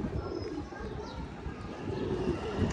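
A white pigeon coos at a pigeon club loft, low rolling coos repeating under a constant rush of strong wind.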